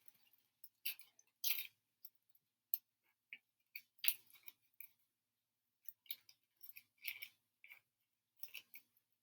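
Scissors snip through paper while cutting out a collage tree with branches, a series of quiet, crisp, irregular clicks spaced apart with silence between them and no talking.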